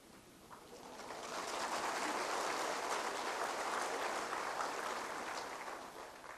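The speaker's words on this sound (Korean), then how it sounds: "박수를 받으니까 굉장히 당황이 됩니다." A church congregation bursts into sustained applause during a Sunday sermon, the clapping swelling to a dense, steady roar and then gradually fading, heard alone without speech.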